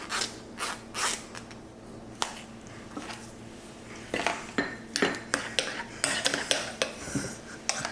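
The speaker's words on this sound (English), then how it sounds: "you always go down underneath the strainer to get everything off" A metal utensil scrapes and taps against a metal strainer to clear off corn purée, giving a series of short scratchy clinks, sparse at first and then quicker and denser toward the end, close by with no talk.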